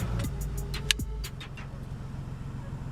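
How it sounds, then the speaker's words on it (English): A Lexus IS300 engine cranks with a short whir and catches, then settles into a steady low idle rumble, close by. "Now turn on the car."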